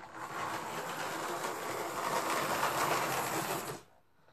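A small Isle of Wight model train whirs along steadily with a busy mechanical rattle for a few seconds, then stops abruptly, leaving near silence.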